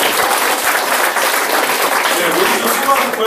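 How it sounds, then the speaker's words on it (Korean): Audience applause for a lecturer at the close of a talk, loud dense clapping filling the room steadily from start to finish. "다시 한번 큰 박수 부탁드립니다"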